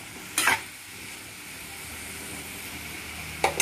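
A vegetable fries in oil in a pan with a steady low sizzle, and two brief scraping stirs come near the start and again near the end.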